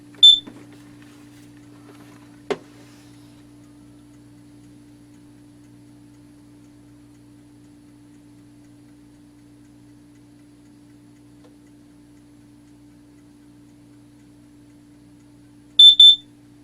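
Alarm on a spent Kidde carbon monoxide detector, two short, loud, high-pitched electronic beeps at the start and again at the end, separated by near silence with a faint steady hum and one sharp click.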